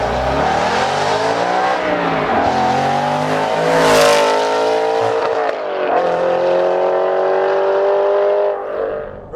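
Aston Martin Vantage GT8 driven hard, its engine rising and falling through revs with shifts, loud and close as heard from the cabin, ending with a brief fade.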